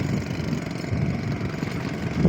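A motorcycle engine runs steadily at a moderate distance on a road, a continuous low idling drone with no talking over it.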